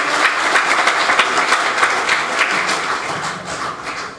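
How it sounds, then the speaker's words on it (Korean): Loud, dense audience applause at a party members' convention, a continuous crowd of clapping hands that stays strong throughout and eases slightly toward the end. "박수로 큰 박수 부탁드리겠습니다."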